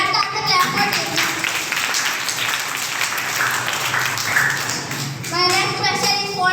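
An audience at a school quiz competition on 23 March claps steadily for a correct answer for several seconds, and voices speak just before and after the applause.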